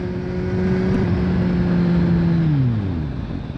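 Kawasaki Z750 motorcycle braking, a steady, fairly loud engine drone whose pitch slides downward as the bike slows to a stop near the end.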